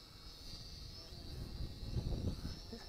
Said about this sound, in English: I want to be able to recover the quadcopter and fly it gently around us.